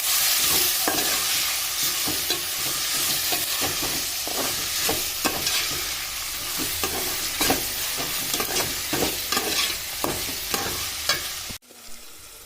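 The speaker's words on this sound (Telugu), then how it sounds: "టమాటా మంచిగా గుజ్జులాగా అయిపోతుంది ఇప్పుడు బాగా కలుపుకుంటాం" A spoon stirs tomato into a spicy chicken curry in a hot pan, scraping in steady, repeated strokes over a constant loud sizzle. The sound cuts off abruptly near the end.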